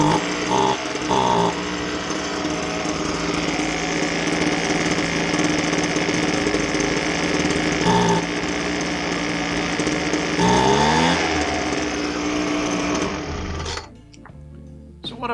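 A Homelite leaf blower's small two-stroke engine runs steadily and loudly up close with little throttle response, a continuous buzzing drone that stays level before cutting out near the end.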